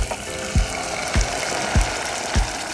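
Coconut milk hits red Thai curry paste in a hot pan, giving a steady close sizzle broken by four soft, evenly spaced low thumps.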